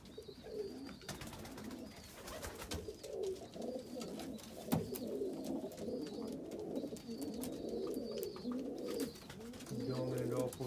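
Indian fantail pigeons coo steadily in a loft, low rolling calls overlapping throughout with occasional wing flaps and shuffling, fairly close and moderately loud.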